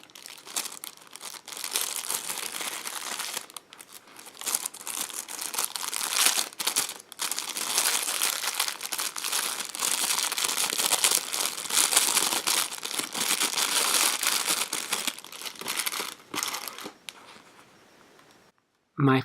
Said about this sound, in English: I really want you guys to hear the sound of plastic